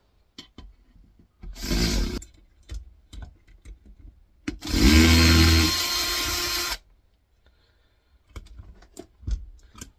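Two bursts of a power drill whirring as it removes screws from a Vortex Genie 2 sample mixer, the second longer and louder, with scattered clicks and handling noises between them.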